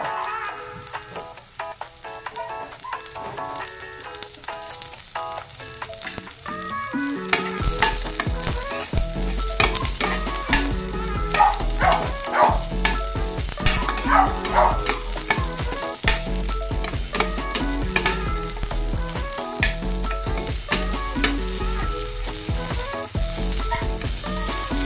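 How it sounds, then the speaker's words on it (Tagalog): Garlic frying toward brown in a pan for a jackfruit coconut stew, a quiet start bursting into a loud, dense, crackling sizzle with frequent spatula scrapes, close up and without voices. "Hintayin natin mag-brown guys ang ating bawang para mabango."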